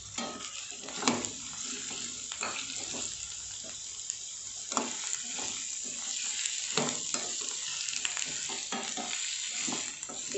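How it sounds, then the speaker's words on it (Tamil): Mixed vegetables, including potatoes, sauté in a pan for a white kurma, giving a steady close sizzle with intermittent scraping stirs and clatter throughout, no talk over it. "காயெல்லாம் நல்லா வதங்கணும்."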